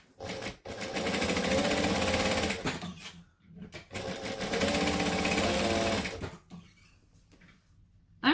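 A sewing machine chain-stitching a Trailblazer bag runs in two loud, fast, rattling bursts of a few seconds each, separated by a short pause and followed by quiet handling noise.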